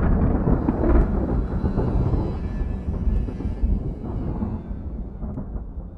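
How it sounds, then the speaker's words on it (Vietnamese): Thunder in a Vietnamese ghost story: one deep, heavy clap rolls into a long, low rumble that slowly fades, with no voice over it. "Theo sau là một tiếng sét rạch ngang trời."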